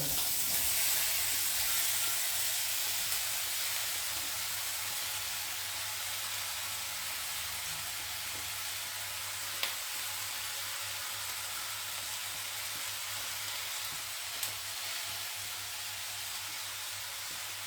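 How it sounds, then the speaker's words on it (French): Vegetables cook in a sauté pan with a steady, soft sizzling hiss that runs unbroken throughout, broken only by a couple of faint clinks. "je mets tous mes légumes dans ma sauteuse"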